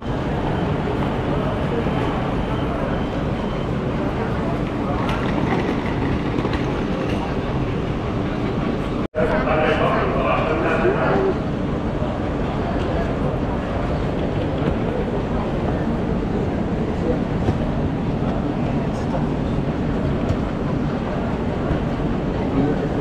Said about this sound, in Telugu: వుహాన్కి వెళ్ళడానికి బుల్లెట్ ట్రైన్ ఒకటే ఆప్షన్ ఇక్కడ నుంచి